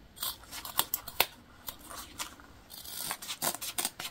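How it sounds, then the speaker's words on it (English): Scissors trim excess zipper tape from a sewn fabric pack: a quick series of crisp snips, closer and louder at times, with a pause in between, close up and without speech. "I'm gonna trim off our zipper, extra zipper tape before we top stitch."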